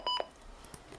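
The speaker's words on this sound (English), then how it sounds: "on previous Midland radios, you've heard the button beeps and what they sound like" A Midland WR300 weather radio gives two short, quick electronic button beeps, close and clear, followed by faint background noise.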